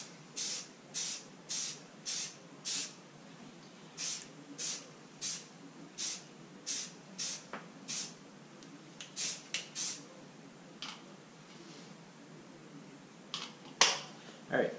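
Spray paint dusting over stencils on a cooler, a series of short sharp aerosol bursts in a regular rhythm, close and fairly loud, with quieter pauses between bursts.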